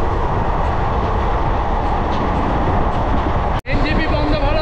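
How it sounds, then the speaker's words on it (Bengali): A long Vande Bharat-style superfast express train running at high speed, heard from inside as a loud, steady rumble and rush, with a brief sharp drop near the end. "ট্রেন এখন কিন্তু ঊর্ধ্ব গতিতে চলছে।"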